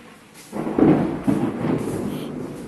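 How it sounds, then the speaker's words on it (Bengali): Nighttime thunder during a rainstorm, a sudden close rumble swelling in after a quiet start, with a second lower roll following and fading into a soft rainy background. "গুড়ুম গুড়ুম হচ্ছে, গুড়ুম গুড়ুম"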